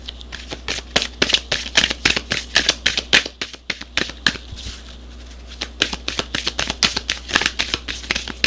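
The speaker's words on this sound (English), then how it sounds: "let me pull a unicorn card and see what the unicorns have to say for today." Unicorn oracle cards shuffled by hand in a steady, rapid riffle of crisp flutters and slaps, close and loud, with a short lull midway.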